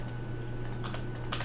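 Fingers tap out a short burst of keystrokes on a computer keyboard, light clicks clustered in small runs, close and clear over a steady low hum with no voices.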